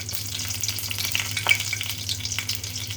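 Bay leaves and dried red chillies sizzle in hot oil as a tempering for dal, a steady close crackling hiss with small pops and a low hum underneath, no talking.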